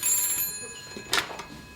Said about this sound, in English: That was Mrs. Watts on the phone